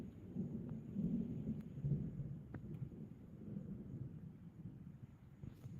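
Thunder from a thunderstorm rolls as a low, continuous rumble, with a faint patter like rain and no voices.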